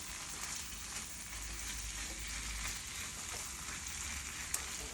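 Chicken pieces frying and being stirred in a curry pan give a steady, moderately quiet sizzle with soft scraping from stirring and an occasional faint tap, with no talking.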